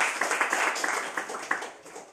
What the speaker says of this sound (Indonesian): Untuk itu tepuk tangan untuk semua.